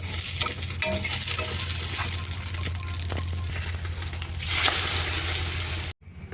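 An omelette sizzles steadily in a hot pan, with occasional scraping and stirring sounds close by, and no talking.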